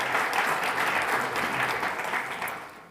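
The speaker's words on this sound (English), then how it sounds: "I think he well deserves a big round of applause" A conference audience in Vienna gives a big round of applause for a guest from the International Criminal Court, dense sustained clapping that fills the hall and begins to taper off toward the end.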